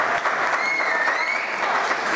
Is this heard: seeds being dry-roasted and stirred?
no